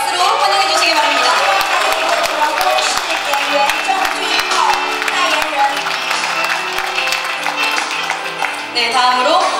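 Event applause welcoming actor Jung Joon-ho at a watch launch, a crowd clapping steadily and loudly for several seconds with cheering and voices mixed in.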